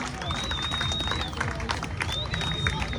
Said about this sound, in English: could we have another round of applause for the pop-up singers?